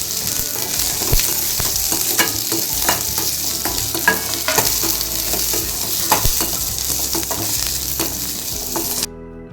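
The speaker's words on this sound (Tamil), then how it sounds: "சும்மா ஒரு 1 நிமிஷம் அப்படியே வதக்கிக்கலாம்" Ingredients sauté in a pan with three dried red chillies, a close, steady sizzle broken by repeated clinks and scrapes of stirring.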